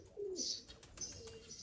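Newly arrived Punjabi Malwai pigeons coo close by in short, soft bursts, a couple of low calls with some brief higher chirps in between, otherwise quiet.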